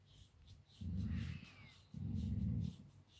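A dog growls low in two sustained, throaty bursts, close by, with a faint high whimper drifting between them over a quiet room.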